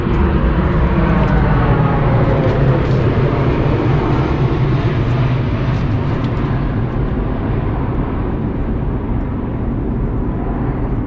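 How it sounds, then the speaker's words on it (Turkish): A fixed-wing airplane passes overhead, a steady broad roar filling the whole stretch at constant loudness, with no talk over it. "Uçak geçiyor bir geçsin."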